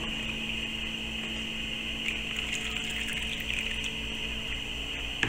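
Used cooking oil pours into a container in a faint, steady, continuous liquid stream with a soft underlying hum.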